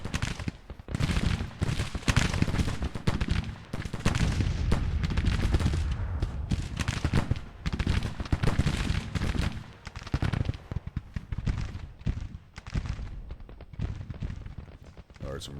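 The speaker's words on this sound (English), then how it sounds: "Guess the artillery continue plugging at each other." Rifle volleys and artillery fire in a Civil War strategy game, dense crackling musketry and booming cannon shots rolling on without pause while someone talks over the battle.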